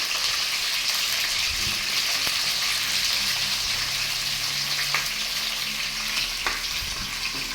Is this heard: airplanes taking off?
no